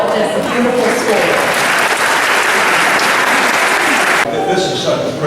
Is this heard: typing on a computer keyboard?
no